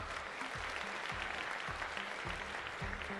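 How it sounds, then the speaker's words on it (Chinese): Sustained applause from the audience at a Hearthstone Gold League tournament on stage for sixteen players, a dense steady roar of clapping filling the room with no voices over it. "让我们把掌声再次送给我们台上的16个选手"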